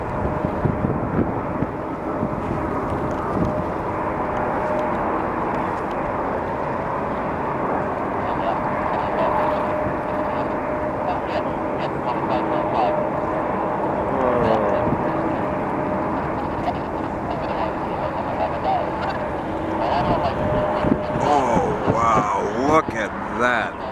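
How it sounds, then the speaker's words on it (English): An Airbus A380 departing Boston Logan in February: a steady, loud jet engine roar holds through the whole stretch, with wind buffeting and some talk in the background. "Airbus A380 departing Boston Logan"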